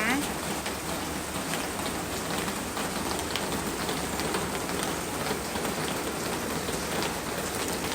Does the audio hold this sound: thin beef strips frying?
no